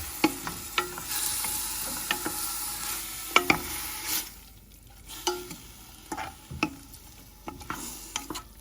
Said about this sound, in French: vous mélangez un peu, histoire que ça prenne les saveurs.